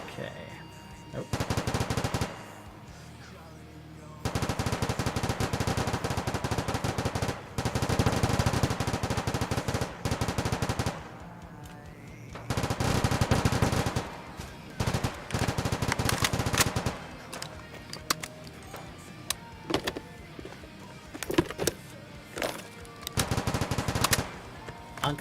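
Rapid machine gun fire in a video game firefight against raiders, loud bursts repeating in clusters several seconds long, separated by brief quieter gaps.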